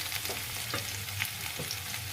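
Potato and pumpkin pieces fry in a pan with a continuous moderate sizzle, and soft stirring scrapes come through now and then, with no one talking.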